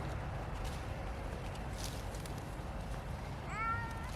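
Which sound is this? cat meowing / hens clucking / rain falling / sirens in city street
cat meowing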